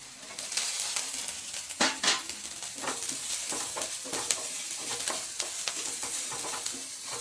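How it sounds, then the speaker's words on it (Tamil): Green chillies and onion sauté in a pan with a steady sizzle, broken by scraping stirs and a few sharp clinks of a spoon on metal, close and without talk. "பச்சை மிளகாய் வெங்காயம் கொஞ்சம் நேரம் வதக்கிடுங்கம்மா."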